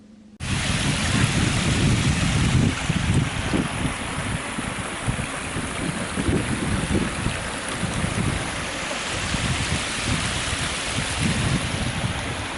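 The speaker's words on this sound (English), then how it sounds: "As you can see, Platform 2 at Heald Green is literally a river." Floodwater flows over Platform 2 at Heald Green railway station, a loud continuous rushing and churning of water mixed with wind buffeting the microphone, with no talk.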